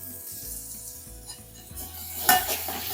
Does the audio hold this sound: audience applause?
no